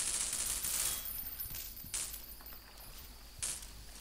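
SMG1 submachine gun from the Half-Life 2 beta, restored in a modded Half-Life 2, fired in a few short bursts over a steady background hum.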